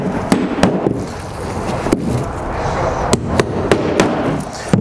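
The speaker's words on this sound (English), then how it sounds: "Now we're ready to start nailing." Hammer blows nailing down a torch down roofing base sheet on a roof: sharp, irregular knocks, sometimes in quick doubles, ring out over a constant rough background of outdoor noise.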